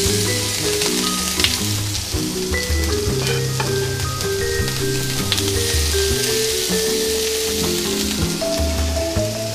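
Chopped spring onion frying in oil in a pan, giving a dense, loud, continuous sizzle with a crackling texture and tonal hums underneath, close up and with no talking.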